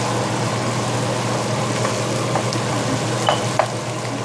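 Kidney beans stirred into a sizzling pan while cooking rajma, a steady close frying hiss with occasional soft scraping and clinks of a spoon.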